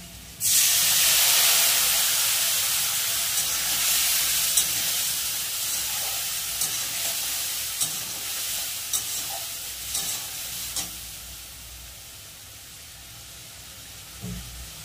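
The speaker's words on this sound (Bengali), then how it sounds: "আলুটা হালকা ভাজা ভাজা হয়ে গেছে। এবার এই মশলাটা দিয়ে দেবো।" Spice paste mixed with water tipped into lightly fried potatoes in hot oil for a Bengali pabda fish curry, bursting into a loud sizzling hiss that slowly fades, with occasional stirring scrapes and clinks.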